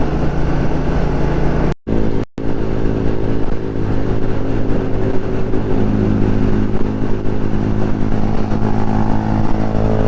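A Royal Enfield Classic Stealth Black motorcycle cruising on a steady ride, its engine droning continuously and loud with constant wind rush, briefly cut by two short dropouts.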